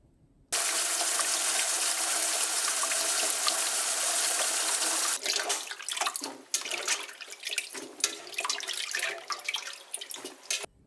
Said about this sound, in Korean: 그리고 이만 한번 살짝 씻어 보겠습니다.